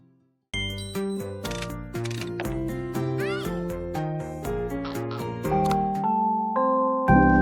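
Cartoonish cat meows from the cozy cat-petting simulator game Calico ring out over bright, tinkly chiming game music, several short mews in a row that stay clear and upfront.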